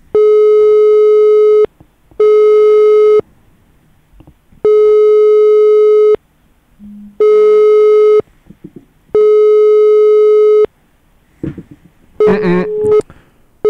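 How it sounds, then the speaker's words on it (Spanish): A telephone busy signal repeats as five loud, steady tone pulses with short gaps during a phone call, followed by a brief burst of voice at the end. "La persona a la que llama no está disponible."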